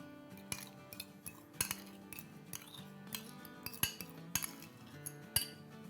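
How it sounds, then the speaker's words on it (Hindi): Yogurt whisked lightly in a bowl for a mutton handi dish, giving a run of quiet metallic clinks and scrapes of a utensil against the bowl at an irregular rhythm, close and faint, with no talking. "ये बस हल्के से आप फेंट लें"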